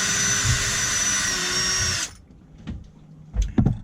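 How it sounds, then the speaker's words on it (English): A power drill runs steadily for about two seconds driving a screw into a hole, then stops, followed by clunks and handling knocks of the tool. "I'm just mounting a screw in every other hole."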